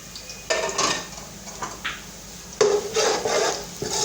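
Whole spices (black peppercorns, cinnamon, bay leaves, cardamom, star anise) stirred and roasted in a pan, giving a series of scraping, rattling stirs and light clinks, close and moderately loud, with no talk.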